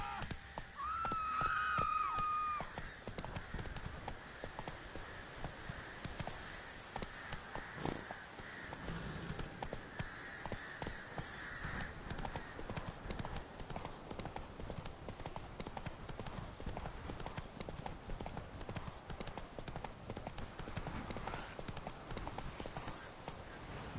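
Horse hooves clip-clop at a steady, rapid gallop in The Witcher 3 video game, a continuous rhythmic pounding with a brief whinny-like tone early on; no talking.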